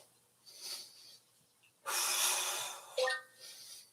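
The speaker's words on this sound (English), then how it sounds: "Breathe deeply in. Exhale all the way out." Deep breathing during a live workout: a slow audible inhale, then a long forceful exhale and a short sharp puff, close and breathy with no talking.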